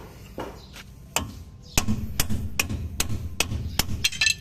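Metal hammer blows on a bolt driving out the king pin of an Isuzu NHR truck, a series of sharp, loud strikes that speed up into a quick, uneven rhythm, close by with no talk.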